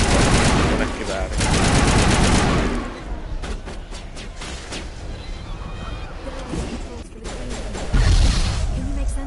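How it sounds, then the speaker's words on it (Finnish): Loud, close machine gun fire in the Mass Effect video game, with dense rapid bursts at the start and again near the end and quieter scattered shots between. "Konekivääri."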